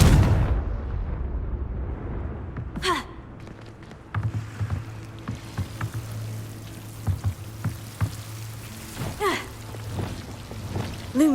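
A Confringo blasting spell detonates in Hogwarts Legacy with a heavy, low boom right at the start, fading into scattered thuds, whooshes and softer game effects.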